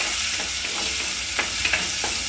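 Tomato, onion and ginger paste frying in a pan for a Kerala fish curry, a steady loud sizzle with a few soft stirring scrapes on top, no talk.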